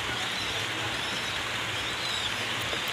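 Steady rain falls outdoors around a pigeon loft, a continuous soft hiss of drops with no breaks, faint and even throughout.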